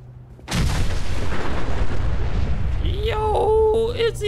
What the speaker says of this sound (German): Auto explodiert.